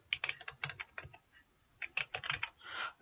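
Password being typed on a computer keyboard: quick, close clusters of light key clicks in two bursts separated by a short pause, quiet and without talk.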